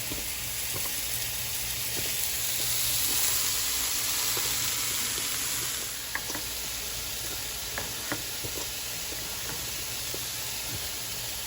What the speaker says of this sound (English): Moving the noodles around a little bit so that they could start to boil down.